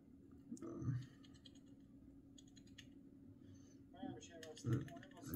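Keys on a Gamepower Suki TKL keyboard with black switches click in short bursts, with sparse separate presses between them and a few louder thumps. The sound is close and quiet, and a low voice murmurs.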